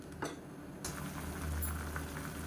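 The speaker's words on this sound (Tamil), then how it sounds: "இப்போ தண்ணி நல்லா கொதிக்க ஆரம்பிக்குது." Water bubbles and burbles steadily in a pot at a rolling boil while making biryani, close and fairly quiet, with a soft clatter near the start.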